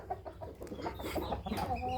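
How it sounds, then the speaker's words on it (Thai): A young Burmese game rooster clucks and calls softly at close range, short scattered vocal bursts over a quiet background. "ตัวนี้ก็เป็นไก่หนุ่มคัดผ่านนะครับ"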